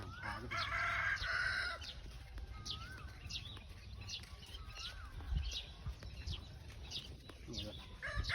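A rooster crows loudly near the start on a rural Thai village morning walk, followed by fainter crows and clucks from several chickens scattered through the rest.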